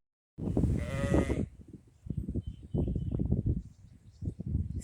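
A Suffolk-Cheviot cross ewe bleats loudly up close in a long wavering call, then gives several shorter rough bleats, with faint outdoor background and no talk.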